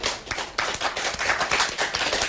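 Applause from a crowd at a Korean election campaign event in Dongjak, a dense burst of clapping that swells and holds steady, close and lively with no voices over it.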